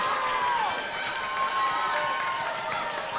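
Spectators at a robot fighting championship cheering and whooping, a sustained crowd roar with scattered shouts and a whistle-like tone, moderately loud and continuous.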